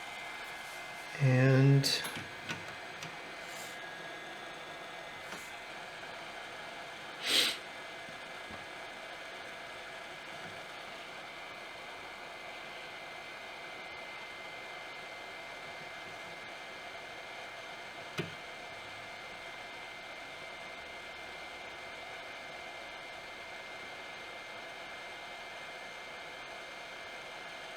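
A heat gun set to 175 blows on an Amiga 1200 case, a steady faint airy hiss held throughout, broken by a few brief clicks and handling knocks near the start and middle.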